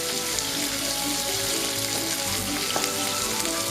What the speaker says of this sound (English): So while we're sauteing our carrots